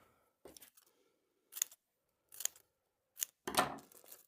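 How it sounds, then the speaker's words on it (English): Paper being cut with scissors for decoupage card-making: four or five distinct crisp snips, separated by short silences, close and quiet, with a final longer cut. "we've just cut that out with some scissors."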